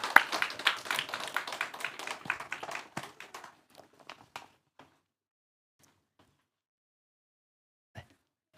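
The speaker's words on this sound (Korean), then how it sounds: "우리 박수로 환영하도록 하겠습니다" An audience at a church's tenth-anniversary thanksgiving service claps to welcome a guest speaker: a dense burst of applause for about three seconds that thins into a few scattered claps, then silence with one last isolated clap.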